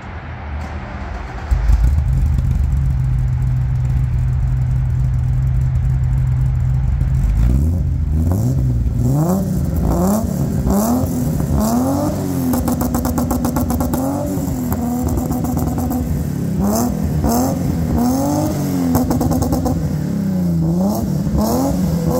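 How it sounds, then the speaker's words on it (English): An ice white BMW 325i Baur cabriolet with a stainless steel exhaust cranks and fires up, then idles roughly. It follows with a long run of sharp, repeated throttle blips and revs, loud and close. "I want to start the car for you guys, and I want you guys to hear how insane this car starts"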